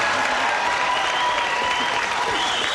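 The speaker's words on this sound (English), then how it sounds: "Little applause for these people" A game show studio audience applauding for introduced contestants, a continuous loud roar of many hands filling the whole stretch without any break.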